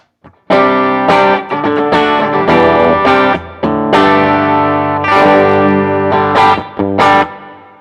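Distorted electric guitar plays a loud, driving riff of chugging chords and bends, crunchy and sustained throughout without any talking.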